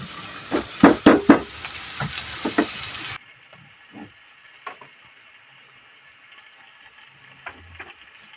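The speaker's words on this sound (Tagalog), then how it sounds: "Yung habang hinahalo ko na itong ating inilagay na dahon ng pechay" Pechay leaves are stirred into tofu and pork in a hot pan, with a sizzling hiss and a few sharp utensil scrapes at first, then the frying fades to a faint background with occasional soft clicks.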